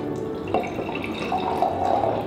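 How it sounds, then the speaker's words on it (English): A shaken drink with ice is poured into a glass goblet, giving a continuous close-up splashing pour with faint clinks. "And just pour that in."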